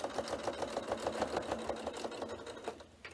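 A sewing machine stitches steadily over the thick central seams of a sequin pencil case, its rapid, even needle strokes ticking close and clear with no talk.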